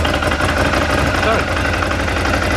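A one-year-old motorbike engine runs at a steady, rumbling idle, loud and close, with an even low throb throughout.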